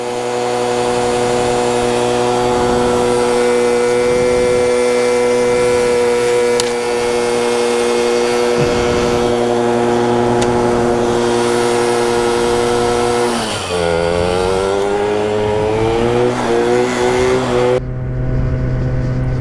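A scooter engine idling while warming up, a steady close buzzing drone that rises sharply in pitch as it revs, then cuts off near the end.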